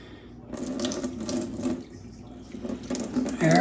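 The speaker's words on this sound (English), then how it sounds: "So we'll drain it. Then let's rinse it again." A kitchen tap runs into a sink while rice is rinsed and drained, a continuous splashing gush of water with small clinks, close and unbroken.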